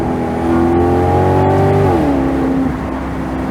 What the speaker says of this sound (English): the perfect amount of gurgles and pops when you just tap on that accelerator